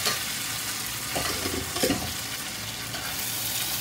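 Corn fries in a hot frying pan, giving a loud, close, continuous sizzle with a few brief stirring scrapes and no talk.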